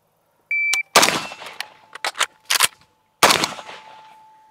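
A Krebs Custom Mini Beryl AK rifle fires at close range after a shot-timer beep, with sharp loud cracks arriving in a quick cluster, a brief pause, then a final shot ringing out.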